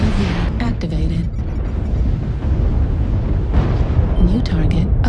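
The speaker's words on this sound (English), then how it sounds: "Artillery strike activated." Loud, continuous rumbling explosions from an artillery strike in the mech combat game MechWarrior Online during Clan Warfare, with booms layered over one another and bursts of radio voice chatter.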